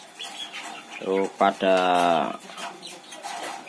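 Backyard chickens clucking and calling as boiled feed is handed out, with a few close, loud drawn-out squawks and clucks heard under someone speaking Indonesian.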